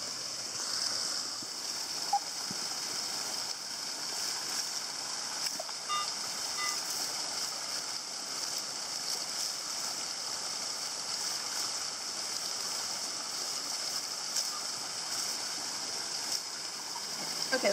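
Water of a mossy forest creek flows steadily beside the bank, a continuous hissy rush that stays even and fairly near throughout, with no voices.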